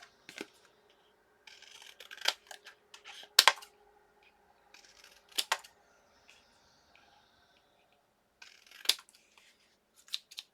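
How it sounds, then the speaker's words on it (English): Scissors snip out a paper tag for a craft card, with several short crisp cutting bursts separated by pauses, close and fairly quiet, with faint rustling of paper between the cuts. "And just going to cut it out."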